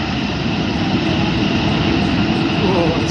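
A loud, steady roar of cargo aircraft engines running with thrust reversers deployed at an Arctic Thunder airshow, broadband and unbroken throughout, close and overpowering.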